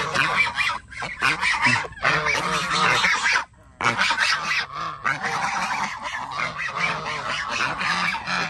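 Geese honk loudly and repeatedly near chickens feeding on harvested termites, close and insistent calls in overlapping bursts with a brief pause midway.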